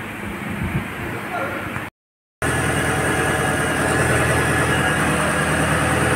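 Renault Clio 1.6 16v engine idling with a belt fault, a steady close engine hum with a whirring belt noise, briefly cut by a moment of silence before running on.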